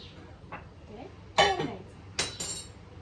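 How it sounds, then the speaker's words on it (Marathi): A metal lid is set onto a cooking pot with a faint clink, then two sharp clatters close together, close and bright in a quiet kitchen. "त्याच्यावर आपल्याला असं व्यवस्थित झाकण मारायचं आहे"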